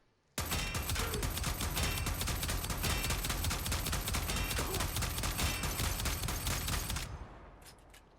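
Telos Akbolto sidearm firing in Warframe against armored corrupted heavy gunners: a dense, sustained stream of rapid shots for about seven seconds, loud and close, cutting off abruptly with faint game sounds after.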